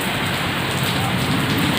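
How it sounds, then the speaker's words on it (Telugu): Steady rain falls and patters on surfaces, a dense continuous wash of drops at even volume with no voices over it. "వర్షం వర్షం వర్షం వచ్చేస్తుంది"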